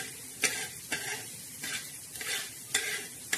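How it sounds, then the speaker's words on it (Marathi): Coriander seeds dry-roasting in a pan, stirred in regular strokes that scrape and rattle over a soft constant sizzle, close and quiet with no talking. "आता हे पण छान असे धणे आपले भाजले आहे, भाजत आहे"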